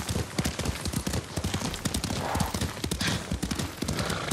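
Horse hooves clip-clop at a steady riding pace in the samurai video game Ghost of Tsushima. Quick hoofbeats run without a break, close and moderately loud, over an ambient game backdrop.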